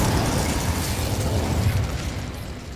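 Fiery whoosh of the Incendio spell being cast in Hogwarts Legacy, a loud roaring burst of flame that sustains and slowly fades over a few seconds.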